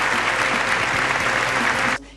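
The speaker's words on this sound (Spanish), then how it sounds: "Lo recibimos con este aplauso." A live election-debate studio audience in Argentina applauds to welcome a candidate, a dense, loud wash of clapping that cuts off abruptly near the end.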